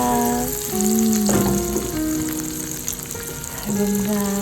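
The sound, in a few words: frying tenderloin steak in butter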